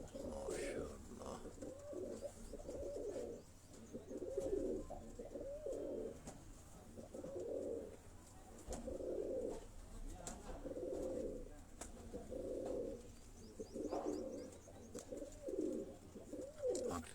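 Kasuri bloodline pigeons give repeated soft, rhythmic coos in a steady pulsing series, fairly faint and close, with occasional background voices.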